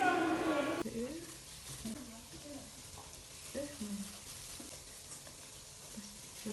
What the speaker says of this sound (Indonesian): langkah selanjutnya adalah menggoreng donat dengan api sedang